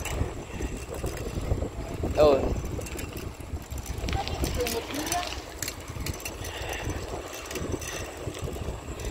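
Wind buffets the microphone in a steady rumbling rush while riding a bike through a subdivision, with engine hum underneath and a voice speaking over it.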